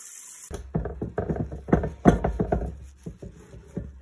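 A vase is washed under a running tap, with a steady water stream and a string of close, hollow knocks and splashes as the vessel is handled and turned.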